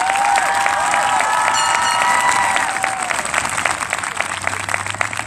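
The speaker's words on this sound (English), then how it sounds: "You may now applaud." A high school graduation crowd breaks into sustained applause and cheering in a large hall, loud and full at first, with a couple of high whoops, then thinning slightly toward the end.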